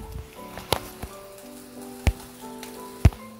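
Sautéed onions and crispy beef sizzling in a pan, a soft steady crackle with a few sharper pops and knocks, heard under faint background music.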